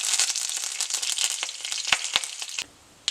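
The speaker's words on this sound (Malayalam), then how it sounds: "വെളിച്ചെണ്ണ നന്നായി ചൂടായതിന് ശേഷം നമുക്കിതിലേക്ക് അല്പം കടുക് ഇട്ട് കൊടുക്കാം." Mustard seeds sizzle and crackle in hot coconut oil, a dense, close frying hiss peppered with sharp pops that cuts off abruptly near the end, with no voices.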